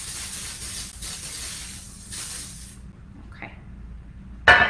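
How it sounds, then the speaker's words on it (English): Olive oil cooking spray greasing a baking dish over a kitchen sink, a steady hiss lasting a couple of seconds before tailing off, followed by a short louder burst near the end and a brief spoken word. "I'm just using an olive oil spray"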